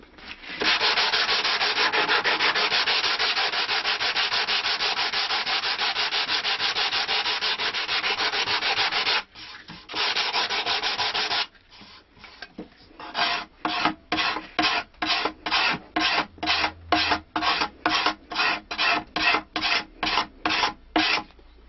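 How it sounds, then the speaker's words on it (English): The wooden heel of a stick dulcimer is sanded by hand with long continuous rubbing strokes, then shorter rhythmic back-and-forth passes, close and loud. "we can finish sanding the heel"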